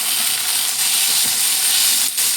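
Potatoes sizzle as they fry in a pan, a steady close hiss of bubbling oil that runs without a break, with no voices over it.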